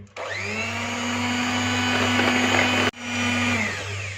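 An electric egg beater whirs at low speed through chicken cake batter. The loud, steady motor whine stops for an instant and then spins up again.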